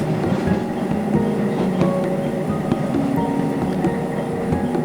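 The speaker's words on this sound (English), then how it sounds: "right now the train is arriving at the Omama station" A Watarase Keikoku Railway driver-only train pulls into Omama station, a steady rumbling roll with faint rail clatter and a few squeaks, continuous and fairly loud throughout.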